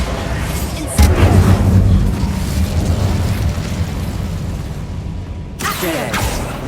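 A Bombarda blast spell in Hogwarts Legacy goes off with a loud sudden boom, followed by a long rumbling roar and a second sharp burst near the end.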